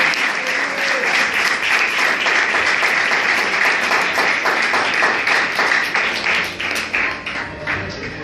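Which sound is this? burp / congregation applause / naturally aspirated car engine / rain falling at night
congregation applause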